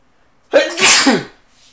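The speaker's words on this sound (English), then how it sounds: "Oh boy, I have to sneeze real fast." A man sneezes once, loud and close, a single sharp burst lasting about a second in otherwise quiet surroundings.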